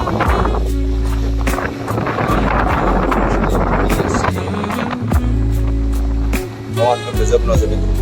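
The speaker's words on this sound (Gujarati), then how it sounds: "પવન જોરદાર કરાવી રહ્યો છે." Strong wind blows outdoors beside farm fields, buffeting the microphone with heavy low rumbling gusts that rise and drop throughout, close and loud.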